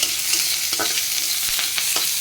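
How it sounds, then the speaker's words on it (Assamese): Chopped onions sizzle and crackle in a very hot wok, a steady close frying hiss with a few sharp stirring scrapes, no voices. "অকণমান পিঁয়াজখিনি ভজা হৈ আছে।"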